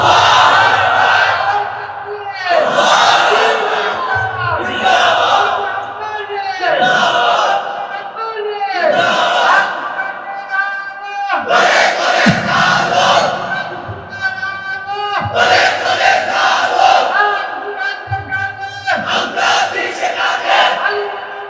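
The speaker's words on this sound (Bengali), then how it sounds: "তোমরাই স্লোগান দাও, তোমরাই তাকবীর বলো" A large crowd at a Bengali religious sermon gathering loudly chants the takbir in answer to a preacher. Its forceful, unified shouts come in about eight bursts, roughly every two and a half seconds, filling the space.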